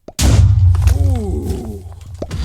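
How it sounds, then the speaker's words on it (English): A blocky explosion spell from the Minecraft video game goes off in one sudden loud boom that rumbles and decays over about two seconds, with no talk over it. "Explosion spell."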